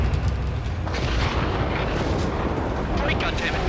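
Incoming missile and explosion in the jet combat video game Ace Combat 7: Skies Unknown, a loud continuous roar and rumble with radio-style voices talking over it.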